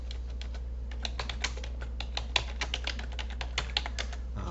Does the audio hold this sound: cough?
no